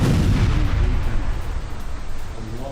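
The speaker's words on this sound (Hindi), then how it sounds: "हिजबुल्लाह पर आईडीएफ की विध्वंसक एयर स्ट्राइक" Explosions from an air strike on Hezbollah targets in Lebanon, a loud continuous low rumbling roar that swells and rolls throughout, heavy and distant-sounding.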